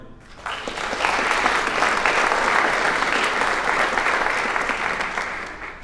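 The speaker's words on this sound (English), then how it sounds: "after we've had a chance to clap for everybody" Sustained applause from a crowd at an honors convocation, a dense wash of clapping that swells quickly and holds steady for several seconds before easing slightly.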